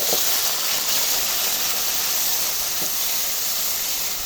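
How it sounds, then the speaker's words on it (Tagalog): Bitter gourd (ampalaya) sizzles in hot oil in a pan, a loud, steady, close hiss of frying that runs without a break, with faint clinks of utensils. "Magigisa ako. Magluluto ako ng ampalaya."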